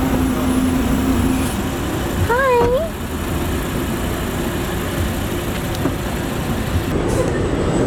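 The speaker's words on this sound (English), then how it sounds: "look at all these loud trucks driving by" Loud trucks drive past on a road outdoors, a continuous rumble of engines and traffic noise, with a puppy's brief squeaky whine rising over it partway through.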